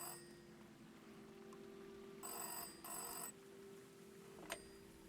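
A telephone rings inside a phone box in a video game, giving two distinct bursts of ringing separated by a short pause, clear over a quiet steady background.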